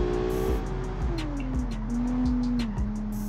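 A V6 engine with a sequential gearbox drives in the BeamNG video game, its steady drone rising and dropping in pitch as it shifts, with rhythmic thumps from the road.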